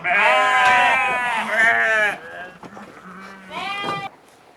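Sheep on a breeding farm bleat loudly and close by in a quick run of wavering calls, then fall quiet for a moment before another bleat rises.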